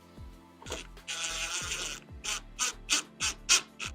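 A drill drives screws into a pre-drilled board, with a short whirring run followed by a series of quick ratcheting bursts of a clutch, close and clear with no talking.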